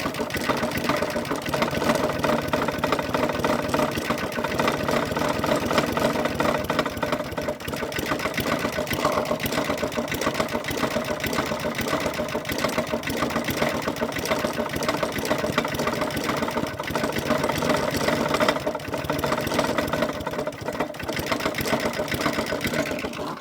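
A Flymo hover mower engine runs steadily at a constant buzzing drone but fails to rev, holding one unchanging pitch throughout with no voices.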